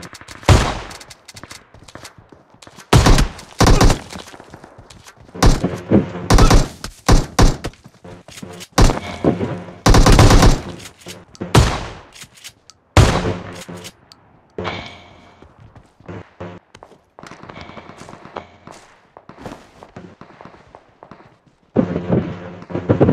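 Gunfire in a battle royale video game, with loud bursts of rapid automatic shots and single cracks coming in irregular volleys, separated by quieter gaps over a long stretch.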